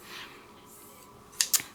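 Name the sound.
Crafter's Companion 9-inch scissors being handled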